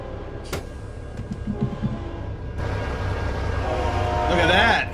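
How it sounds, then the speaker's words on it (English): Train passing in American Truck Simulator, a rumbling rail roll that grows louder and denser midway, with a horn-like tone rising near the end, heard over engine noise. "Oh, we got a train coming."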